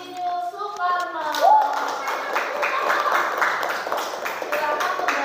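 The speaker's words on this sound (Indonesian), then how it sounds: "Tepuk tangan untuk kelompok masker dan kelompok Insinyur Soekarno." Classroom students clap for the student groups after a presentation, a busy burst of hand claps that rises after an opening voice and continues steadily, with children's voices mixed in.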